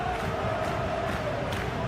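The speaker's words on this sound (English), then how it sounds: "You can hear the annoyance in the crowd." Simulated stadium crowd from the football video game PES 2026, Osasuna vs Real Madrid, a steady loud murmur of restless, annoyed fans filling the whole stretch with no clear peaks.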